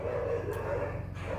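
Dogs bark indoors, short yapping bursts close by over a steady low hum, with a brief sharper yip partway through.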